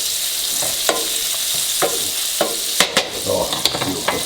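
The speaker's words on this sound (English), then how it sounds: "we wanna add our garlic right into the mix. Stir that up until it gets fragrant." Garlic stirred into a hot pan for spinach pasta, sizzling and frying steadily at close range, with sharp scrapes and clatters of the stirring utensil against the pan recurring every half second or so.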